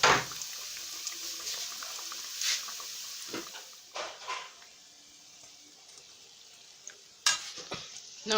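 Puff puff dough fries in hot oil, a soft steady bubbling sizzle with occasional louder splashes and stirring scrapes, close and alone with no talking.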